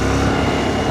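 Loud, constant roar of wind and road noise while riding a 2017 Honda NC750S motorcycle, a dense, unbroken rush with engine drone beneath and no talking.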